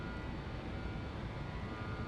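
A BAe 146 airliner's engines roar steadily during a climb in the JustFlight 146 flight simulator, a constant, dense, droning hum with a faint high whine, unbroken and without voices.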